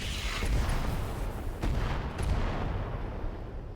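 Heavy explosive booms and rumbling blasts from mech weapons dropping bombs in the RogueTech video game, a few sharp impacts over a dense, continuous roar.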